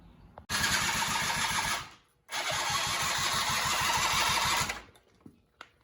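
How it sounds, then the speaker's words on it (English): Small China-made engine on a Polaris Scrambler 90 cranked over twice, each a loud rapid chugging burst of a couple of seconds, separated by a brief pause and followed by quiet. "Let's see if we can get this thing started and running."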